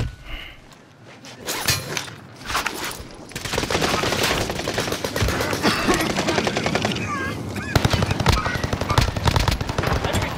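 Sustained automatic machine gun fire from the video game Call of Duty: Modern Warfare, loud, dense rapid bursts running for most of the stretch with scattered shots and impacts, faint voices in the game mix.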